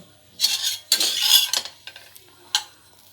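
Vermicelli and dry fruits frying together in a pan, heard as a few separate bursts of spatula stirring and scraping with a light sizzle, quiet gaps between strokes and no talk.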